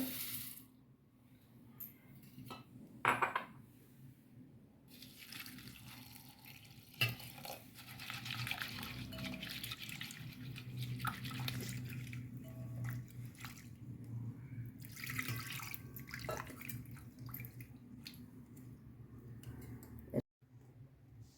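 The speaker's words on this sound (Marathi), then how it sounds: "हे पोहे आता आपण धुवून घेऊया" Poha (flattened rice) being washed in water makes soft, intermittent sloshing, swishing and dripping sounds, quiet and close, with pauses between bursts and a sharp knock near the end.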